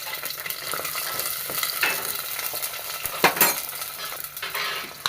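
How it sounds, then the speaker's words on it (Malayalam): Chopped shallots fry in oil with fenugreek seeds in a clay pot. A steady close sizzle fills the whole time, and a stirring utensil scrapes and clinks against the pot now and then, with no talking. "ഉള്ളി ലേശം വഴണ്ടി വന്നിട്ടുണ്ട്"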